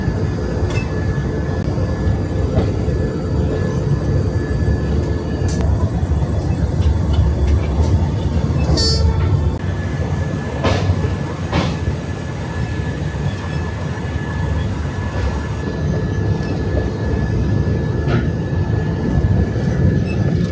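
A train rolls slowly past Pagidipalli junction, a loud, continuous rumble of wheels and cars with brief metallic squeals and clanks over about twenty seconds.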